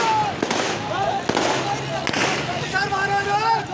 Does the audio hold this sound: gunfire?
yes